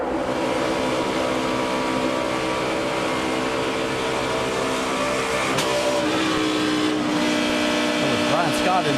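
A race car engine at the 2012 DRIVE4COPD 300 with its tone altered after contact, heard as a steady, droning, harmonic whine held at a constant pitch throughout, with faint chatter underneath.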